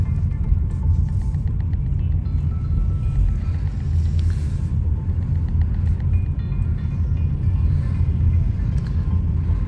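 A car drives through busy city streets in Dnipro, a steady low engine and road rumble running throughout with faint traffic around, no talk.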